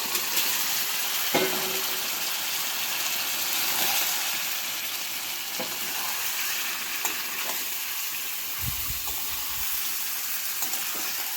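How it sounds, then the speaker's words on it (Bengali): Boiled squash and potato stir-fry with spices in a pan, giving a steady close sizzle with a few clinks and scrapes of stirring throughout. "এই মশলার সঙ্গে একেবারে আর একবার নেড়ে চেড়ে ভেজে নেব"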